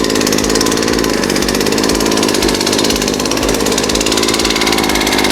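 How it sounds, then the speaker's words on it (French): A leaf blower engine runs steadily and loud throughout while blowing leaves out of a farm shed, a constant droning roar with no pauses. "une méthode radicale pour balayer ton hangar, c'est le souffleur de feuilles"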